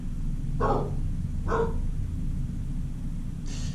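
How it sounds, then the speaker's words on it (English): Indoor dog barking: two short, close barks about a second apart, then a fainter third yelp, over a low steady background hum. "I have a new dog now. He barks."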